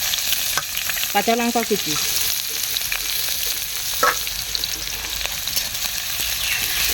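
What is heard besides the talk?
frying onion, whole cumin and ginger in pan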